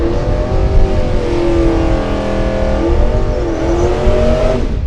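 A drag race car launches hard from the line at a Great Bend drag strip, its engine revving loud and close with a steady, rising roar that holds for nearly five seconds before cutting off.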